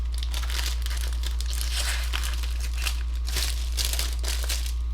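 Paper envelopes are handled and shuffled close up, giving a steady run of crinkling and rustling bursts with no talking.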